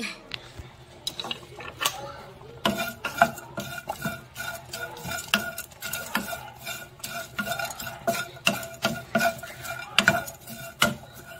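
Ingredients dry stir-fried in a pan before any oil is added, with a spatula scraping and clinking against the metal in quick, uneven rhythmic strokes, close and fairly loud.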